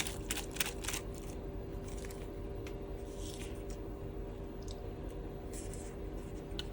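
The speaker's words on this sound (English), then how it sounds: "And you should pull this wrapping paper on it" Wrapping film is pulled off a pack of Japanese natto as a few thin crinkly rustles and crackles near the start, faint and close, over a steady background hum.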